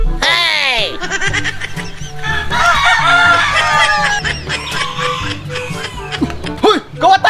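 Chickens cluck and a rooster crows loudly up close, with squawks and agitated calls tumbling over one another in a busy yard.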